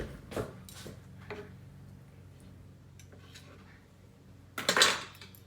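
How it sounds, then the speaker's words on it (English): Fork and knife being picked up and handled at a meal of grilled skirt steak with low-carb barbecue sauce, giving a few light metallic clinks and taps early on and a brighter clatter near the end, with no talking. "Let me get a fork and a knife here."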